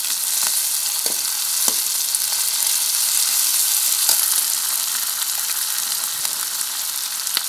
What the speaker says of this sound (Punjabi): ਇਹਨਾਂ ਨੂੰ ਆਪਾਂ ਥੋੜ੍ਹਾ ਥੋੜ੍ਹਾ ਭੁੰਨਾਂਗੇ